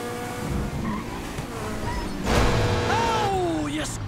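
In Grand Theft Auto 5, a racing car's engine drones along before tires squeal in a sharp, rising skid as it slides out of control, the screech loud and close under the continuing engine noise.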